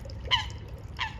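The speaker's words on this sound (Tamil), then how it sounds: "குருவி கத்தி கொண்டு வருது" A bird on the beach at Montreux gives two short, sharp calls about a second apart, heard over a low background of lapping water.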